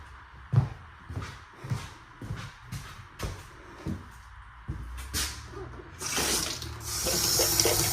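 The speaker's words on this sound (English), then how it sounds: "Water's running here." Bathroom faucet on a ranch running during a plumbing inspection, preceded by shuffling steps and knocks, then a strong, steady hiss of flowing water fills the final two seconds.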